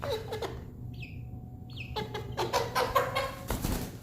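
Pet chicken clucking close by in a quiet room, a few short, distressed chirps and clucks scattered among soft handling noises.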